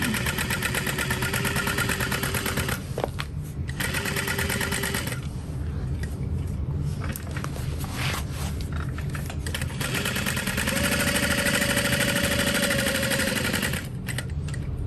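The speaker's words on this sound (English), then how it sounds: "sewing about 1/8 of an inch from the edge that I had already marked out" A sewing machine stitches vinyl about an eighth of an inch from a marked edge, its motor whirring in long steady runs with brief pauses and changes in pitch, close and prominent.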